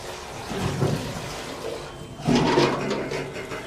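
A toilet flushes in a government hostel: a softer rush of water, then a louder surge that runs on steadily to the end. No one speaks.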